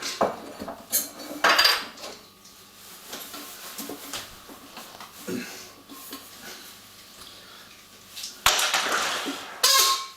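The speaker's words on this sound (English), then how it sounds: "put a few little bits of ice in the shaker" Small pieces of ice dropped into a cocktail shaker while mixing a Knee Lift cocktail, giving bright clinking rattles in short bursts near the start and again near the end, with quieter handling in between.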